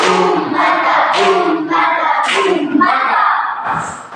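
Congregation claps rhythmically in unison, loud and close, with shouting voices mixed into the beats.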